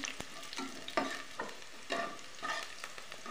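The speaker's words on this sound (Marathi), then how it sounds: "तर कांदा चांगला भाजून घेते मी" Onion frying in a pan for chivda bhaji, a quiet close sizzle broken by several rhythmic scraping bursts of stirring, with no talk.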